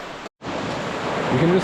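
A backcountry river in New Zealand in winter gives off a broad, steady rushing wash, loud and close, briefly cut off near the start and then continuing, with a voice faintly audible toward the end.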